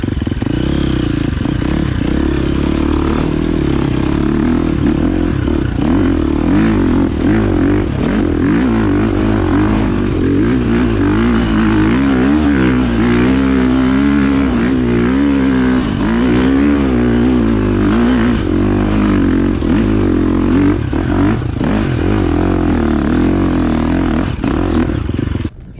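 A 2021 Husqvarna FX350 dirt bike climbing a steep hill, its engine loud and close, droning and revving continuously with rising and falling pitch for nearly half a minute.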